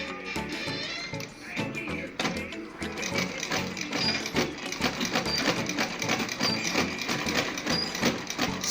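A sewing machine stitches net ruffles onto an ankara dress, running in a steady rapid whir with mechanical clatter throughout, fairly close and continuous with brief pauses near the start.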